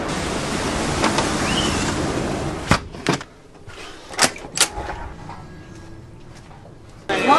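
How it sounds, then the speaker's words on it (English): Strong wind and high ocean waves at Punta Arenas in Chilean Patagonia roar as a steady, loud broadband wash for nearly three seconds, then drop to a quieter bed broken by several sharp gusting surges before swelling again at the end. "the wind and the high waves remain"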